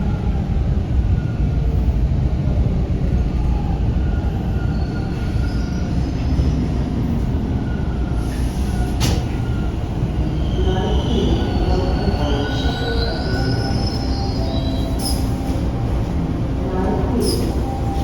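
A Toronto TTC Line 2 green line subway train runs with a continuous loud rumble of wheels on track, overlaid with repeated high metallic squeals as it rounds curves.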